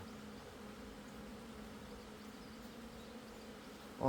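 Honeybees buzz steadily around an open hive during a colony inspection, a low continuous hum holding an even level throughout, close by and alone, with a brief louder bump at the very end.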